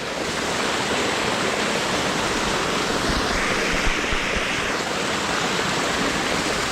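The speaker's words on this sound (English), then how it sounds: "All these little waterfalls." Small waterfalls at Bridal Veil Falls in Kagawong pour in a steady, dense rush of water that stays even and close throughout, with no voices.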